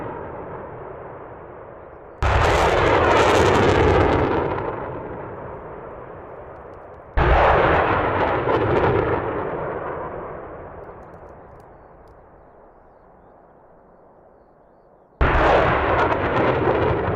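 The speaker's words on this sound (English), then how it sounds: "firing missiles from their respective multiple rocket launch systems" Three loud, roaring blasts of multiple rocket launch systems firing missiles, each opening abruptly and then trailing off into a long fading rumble.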